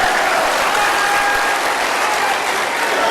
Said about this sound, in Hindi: ताली अब झारखंड वाले अकेले क्यों बजाए भाई,